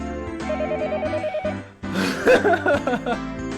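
A telephone rings in the Higurashi visual novel game, a repeating electronic bell pattern over steady background music, with no talk.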